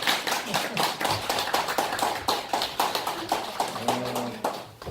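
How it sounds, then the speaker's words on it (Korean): Hand clapping from an audience gathered for a Buddhist dharma talk, with brisk overlapping claps that continue steadily. A few voices and a low tone rise under the clapping near the end. "박수 한번 쳐."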